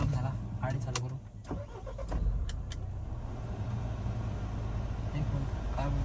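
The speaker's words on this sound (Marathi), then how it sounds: "थोडंसं गरम झाला, गाडी चालू करू." A car engine cranks and catches near the microphone, followed by a steady running rumble, with people talking over it.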